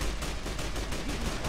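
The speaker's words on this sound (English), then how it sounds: "Who are you shooting at? Because I want to shoot too." Gunfire rattles through a battle in the Fallout: New Vegas game at the Hoover Dam, a steady dense wash of rapid shots with no clear gaps, fairly loud and continuous, with no talking over it.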